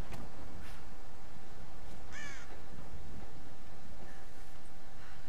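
Crows caw a few times in the video game Tomb Raider, one harsh call standing out near the middle over a steady wind-like ambient bed, with no voices.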